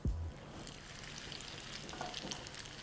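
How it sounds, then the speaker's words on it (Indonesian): Wontons deep-frying in hot oil give a soft, continuous sizzle and crackle with scattered pops, quiet and steady, after a brief low thump at the start. "Oke, lanjutin lah goreng sampai habis."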